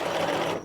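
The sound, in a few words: sewing machine basting stitch around a knit sleeve cuff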